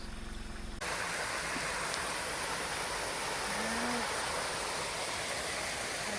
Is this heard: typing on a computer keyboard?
no